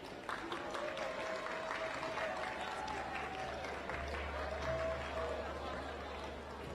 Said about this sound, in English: please to give the coding representative in third place a round of applause